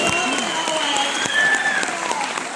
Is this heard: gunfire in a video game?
no